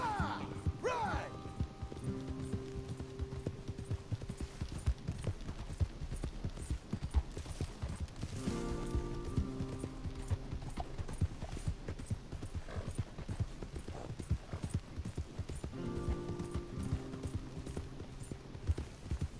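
Horse hooves clip-clop in a fast, steady rhythm over a long stretch in Red Dead Redemption 2, with occasional whinnies, voices and game-like effects.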